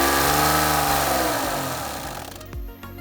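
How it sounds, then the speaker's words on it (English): A 3D printed Wankel engine spins at high speed with a loud, dense mechanical whir that holds steady, then fades and cuts off abruptly near the end. "And now for my original Wankel engine."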